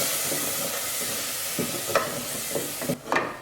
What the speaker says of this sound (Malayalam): ഇതെല്ലാം കൂടി നന്നായിട്ടൊന്ന് മിക്സ് ചെയ്തെടുക്കാം